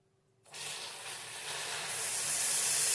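Milk poured into hot caramel in a steel bowl sets off a sudden loud hiss that begins after a short silence, then grows steadily and sustains as the mixture steams.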